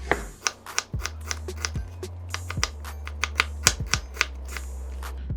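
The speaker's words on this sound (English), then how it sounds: "We're gonna cut straight down." A chef's knife slices straight down through a big onion being prepared for the grill, giving about a dozen crisp, close taps in an uneven rhythm over a steady low background hum, with no talking.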